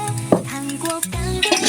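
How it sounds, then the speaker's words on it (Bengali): Spices are stir-fried with a splash of broth in a pan over a clay stove for a potato dish. A metal spatula scrapes and squeaks against the pan in short strokes over a soft sizzle. "মশলাগুলো কষিয়ে নিচ্ছি।"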